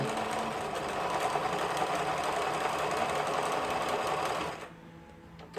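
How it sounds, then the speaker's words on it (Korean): A Lion L372 sewing machine, tested after repair, sews a zigzag stitch in one steady, close mechanical run lasting about four seconds before stopping. "그 다음에 지그잭 바느질."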